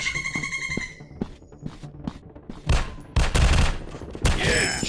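Rapid bursts of gunfire in the first-person shooter game Counter Terrorist FPS Shooting, several loud, sharp volleys crowding together into heavy fusillades toward the end, with softer footstep-like taps in between.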